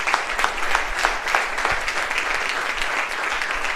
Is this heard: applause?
yes